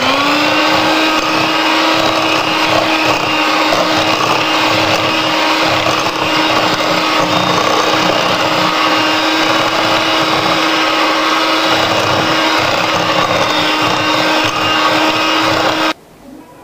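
An electric mixer beats eggs into creamed butter and sugar for blueberry muffin batter, a steady loud motor whine droning without a break for about sixteen seconds, then cutting off abruptly, no voices.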